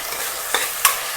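Chopped onions and tomatoes sizzle in hot oil in a pan for a chicken biriyani, with two quick scraping stirs standing out above a steady close frying hiss.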